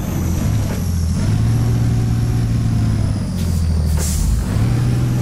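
A Jeep in the off-road game SpinTires labors uphill, its engine droning low and steady with shifting pitch and a hiss of released air midway, loud and continuous.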